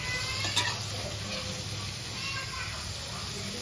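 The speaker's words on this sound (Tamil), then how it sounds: "ஊத்திட்டு பன்னீரை ஃப்ரை பண்ணி எடுத்துக்கலாம்." Paneer frying in ghee in a pan gives a steady close sizzle with light stirring and a small clink near the start.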